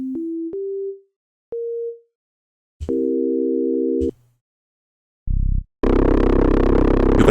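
Synth sub bass notes run through stock Ableton effects: short single tones stepping upward, a sustained stacked note, then a thick, gritty distorted bass burst, all alone and fairly loud with gaps of silence.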